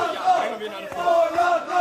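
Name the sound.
crowd cheering and shouting at a London fight event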